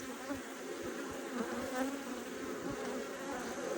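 A dense, steady buzz of many honeybees swarms close by around an open hive during an inspection, continuous and unbroken with no voices.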